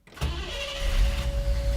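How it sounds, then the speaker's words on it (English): A 1967 Chevy Camaro fitted with Holley Sniper EFI cranks briefly and catches, then settles into a steady, loud, close idle with a rumbling low end and a sustained mechanical whine. "go ahead and crank the engine, but watch the RPMs. It should say syncing, and the engine should start up"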